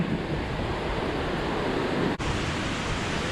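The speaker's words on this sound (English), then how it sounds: "it's a pretty good sized river right there" A good-sized river flows below a high overlook at the Old Stone Fort, a loud, steady broadband rush that continues unbroken and without talk except for one brief dropout.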